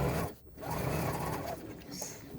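A sewing machine stitches along the top edge of a crossbody bag, a close, steady motor hum that briefly dips, then resumes at an even pace.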